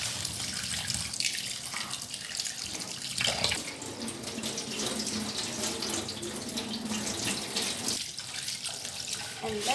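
Tap water runs steadily into a sink as food is rinsed, a continuous splashing wash with brief surges that stays close and fairly loud throughout, with no talk over it.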